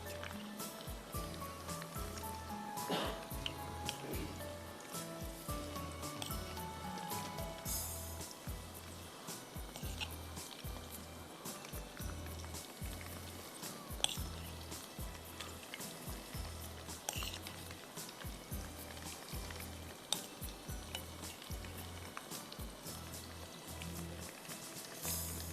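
Chicken pieces frying in hot oil in a home kitchen, left unstirred, give a steady crackling, rain-like patter close up that continues throughout with a faint irregular thump.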